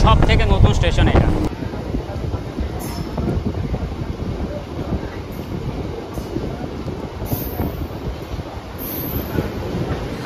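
A local train leaving Islampara Halt on the Bandel–Katwa line rumbles and clatters close by in a continuous rhythm, with occasional high squeals, and a voice is heard briefly at the start.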